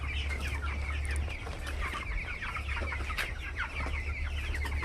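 A flock of broiler chickens clucks continuously in a poultry shed, with many overlapping birds over a constant low mechanical hum.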